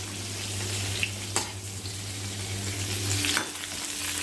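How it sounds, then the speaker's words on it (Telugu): Dried fish pieces frying in a pan for an eggplant curry, giving a steady close sizzle with a low hum underneath and a few brief clinks and scrapes, no voices. "ఎండు చేప ముక్కల్ని ముందు ఇలా వేయించుకోవాలి, ఫ్రై చేసుకోవాలి."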